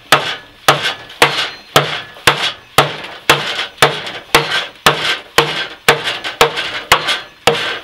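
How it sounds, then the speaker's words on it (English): An axe used as a hammer strikes a wooden dovetail joint on a door frame during restoration of an 1875 Norwegian log house, about fifteen sharp, evenly spaced knocks, close and loud, each with a short woody ring. "It's quite good to use the axe for this because I've got a hammer."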